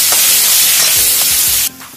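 Onions frying with carom seeds and fennel seeds are stirred in hot oil, giving a loud, close sizzle with scraping sounds that cuts off sharply near the end.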